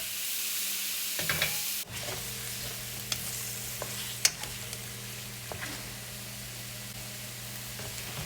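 Shrimp sautéing in a wok, a steady close sizzle and hiss of frying with a few light clicks of stirring, no voices over it.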